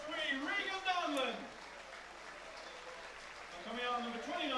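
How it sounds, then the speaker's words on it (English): Football crowd at a Finn Harps versus Galway United match applauding a substituted player leaving the pitch. A steady, moderate wash of clapping sits under a commentator's voice and carries on alone through a short gap in the talk. "who gets a good ovation from the United crowd"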